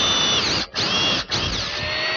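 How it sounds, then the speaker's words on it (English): A power drill bores into a wooden Windsor chair post to enlarge a hole, whining loud and close in steady bursts with two short pauses. "Now I'm going to go to a slightly bigger drill and just enlarge the hole in the post."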